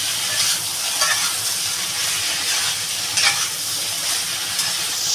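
Ridge gourd with poppy seed paste and salt sizzles and fries in a pan while being stirred, a steady close hiss with scraping stir strokes throughout and no talk.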